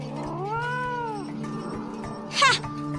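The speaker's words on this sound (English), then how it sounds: "Your cat's not wild." An animated cat in a film scene lets out a long, rising and falling yowl, then a short, sharp meow-like cry near the end, heard over a steady low background hum.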